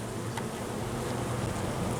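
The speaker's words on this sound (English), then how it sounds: "these bees are so chill today" Honey bees buzz at an opened hive in a dense, steady drone that stays loud and close throughout, with no voices over it.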